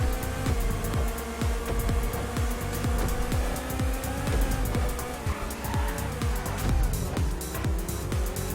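Car driven hard in GTA Online, with a loud engine revving up and dropping through repeated gear changes, a rapid rhythmic pulsing under a busy, continuous roar.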